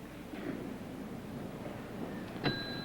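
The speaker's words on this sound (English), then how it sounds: "If you hear a little bell in the background, that will mean he has made it." A single bright timer bell ding at a 1982 US-USSR men's gymnastics meet rings out near the end, its tone lingering over a steady background murmur of a large hall.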